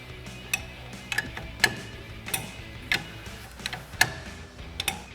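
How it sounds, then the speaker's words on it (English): A 19mm wrench works the top shock nut on a 2024-2026 Toyota Tacoma while the coilover is held with locking pliers, giving a run of sharp metallic ticks and clicks at an uneven pace, close and fairly loud. "we have our vice grips locked on and using our 19mm wrench"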